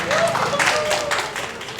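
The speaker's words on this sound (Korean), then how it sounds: "박수로 모시도록 하겠습니다." Audience applause at a local talk concert in Geochang, a dense steady patter of clapping from a seated crowd, fairly loud and continuous throughout.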